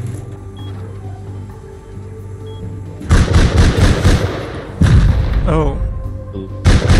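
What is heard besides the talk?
turrets firing guns in Rust video game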